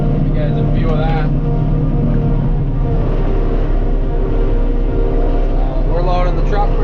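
Claas 695 forage harvester chopping and blowing crop into a truck, a loud steady machine roar with low rumbling throughout and occasional brief higher rattles, close and continuous.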